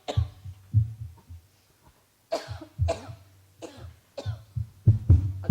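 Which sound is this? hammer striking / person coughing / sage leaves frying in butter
person coughing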